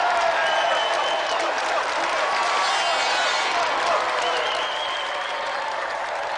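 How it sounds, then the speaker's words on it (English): A large audience applauds steadily and loudly, the clapping holding strong throughout before easing slightly toward the end. "let's have another round of applause for Mike Bedford and the reigning champion"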